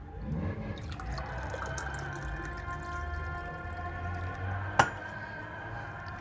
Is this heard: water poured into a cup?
yes